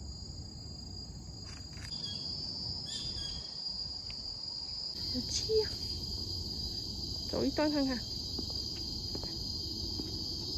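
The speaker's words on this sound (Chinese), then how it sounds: "虫鸣声" Insects, likely crickets, chirp in a continuous high drone in a forested hillside park in Singapore. Footsteps and a voice speaking briefly come through partway, and faint bird calls are heard.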